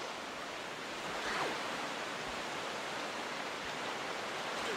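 Ocean water in the video game Zelda Wind Waker HD gives a continuous broad wash of surf noise, fairly loud and even, with no speech.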